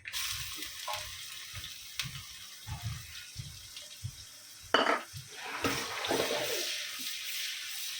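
Sliced onions go into a pan of hot oil with crackled curry leaves for a Kokani-style dry bombil curry, sizzling steadily with scraping stirs and a sharp clatter midway.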